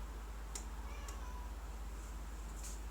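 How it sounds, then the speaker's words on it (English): A house cat meows indoors, a few short, faint cries spaced apart over a steady low background hum. "I don't know why the cat is meowing at me."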